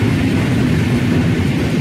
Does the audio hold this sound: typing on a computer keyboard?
no